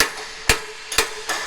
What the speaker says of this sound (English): You're not used to such a small hammer.